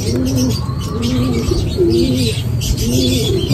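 Pigeons coo softly in repeated low, rolling calls, a few overlapping, close by with a faint background hiss.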